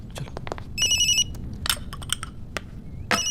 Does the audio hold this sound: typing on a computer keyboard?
no